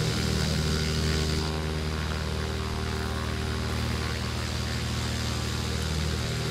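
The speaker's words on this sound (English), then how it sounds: "I think it's this aircraft next to me here. Yeah, it looks like he's getting ready to go too" Propeller aircraft idling nearby before takeoff in the flight simulator X-Plane 10, a steady loud droning hum with low engine tones, continuous and unbroken.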